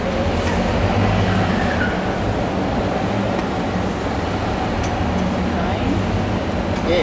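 Train at a station in Kuala Lumpur, a loud continuous rumble of a passing railcar with wheel clatter and faint squeals, steady throughout.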